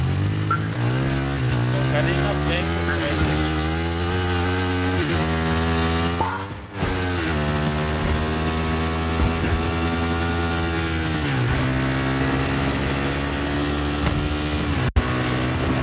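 A motorcycle engine in the video game Battlefield 3 drones loud and continuous, with its pitch rising and falling as it revs. The roar stays steady throughout and cuts out briefly once.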